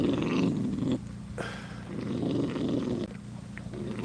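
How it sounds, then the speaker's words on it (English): A puppy growls low and continuously while guarding its food, a close rumbling snarl with brief breaks and renewed bursts across the moment, no speech over it. "They sitting here growling like this."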